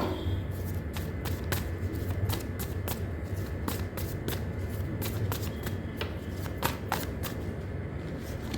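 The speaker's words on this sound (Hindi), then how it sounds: "पहले मैं कार्ड्स निकाल लेती हूँ" Tarot cards being shuffled and drawn for a reading, with a steady run of crisp riffling slaps and taps repeating about every half second, close up over a constant low background hum, with no talk.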